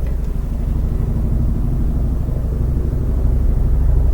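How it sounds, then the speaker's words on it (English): Low, throbbing rumble of a helicopter flying close by, steady rotor thumping that grows slightly louder toward the end. "That's a helicopter."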